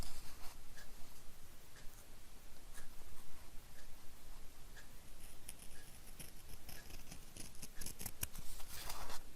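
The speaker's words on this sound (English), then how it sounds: "just cut out around it" Scissors cut out a paper shape in a craft project, producing a run of close, quiet snips and rustles at an irregular pace, with no voices.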